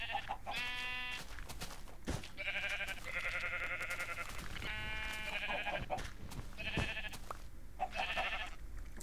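Sheep in Minecraft bleat repeatedly, several wavering cries in a row over a quiet game background, fairly close and clear with no talking.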